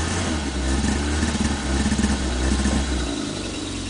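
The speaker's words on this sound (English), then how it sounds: "Got a few revs." A cold 1984 Volkswagen Rabbit engine revs in short bursts over a steady low idle rumble, with some mechanical clatter and a slightly sticking throttle, close by and moderately loud.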